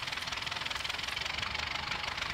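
An old rusty DT 75 tractor engine strains uphill through mud in Spintires: Mudrunner, a fairly faint, steady knocking drone with a rapid, even pulse and no voices.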